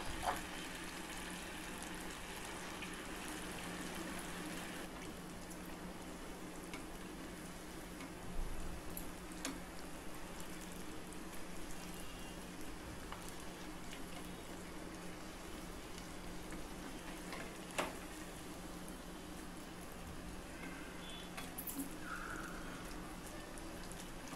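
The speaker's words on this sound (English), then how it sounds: "drop the florets one by one. Fry it till it becomes crispy." Cauliflower florets deep-frying in hot oil in a pan over a high flame, giving a steady, fairly quiet crackling hiss that runs throughout with a few brief louder pops.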